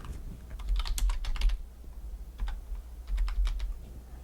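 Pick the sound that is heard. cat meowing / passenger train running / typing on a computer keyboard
typing on a computer keyboard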